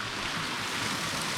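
Water spilling steadily off the edge of an outdoor swimming pool on a mountain farm, a continuous broadband rush and splash, close and even throughout with no voices.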